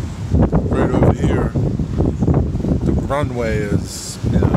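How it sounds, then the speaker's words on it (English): Strong gusty wind buffets the microphone outdoors near an airport and a river, rumbling steadily beneath someone talking throughout. "It's so windy today."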